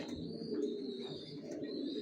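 Racer pigeons, young vaccinated birds, coo softly and steadily close by, a low continuous murmur with a faint high tone above it and no voices.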